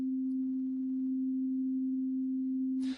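A synthesized pure tone holds one steady low-mid pitch for about three seconds, clean and unwavering, then cuts off into a brief hiss at the end.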